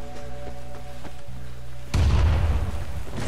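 A grenade explodes in the Vietnam War shooter Rising Storm 2: Vietnam, one loud, close, deep boom that starts suddenly partway through and rumbles on, after a steady low in-game drone.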